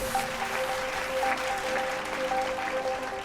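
An audience applauds a contestant at a fashion show with steady, even clapping throughout, over a faint sustained musical tone.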